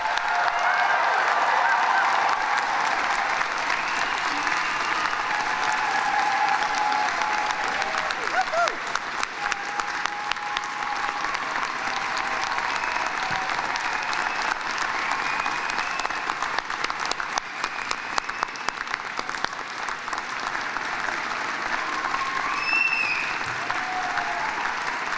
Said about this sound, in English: please join me in applauding the June 2023 graduates